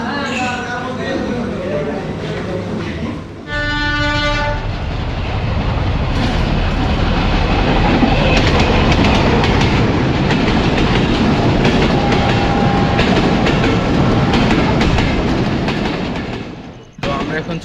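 A train at the Rajshahi University railway station gives a short horn blast early on, then rumbles and clatters loudly and steadily past before cutting off near the end, with voices faintly underneath.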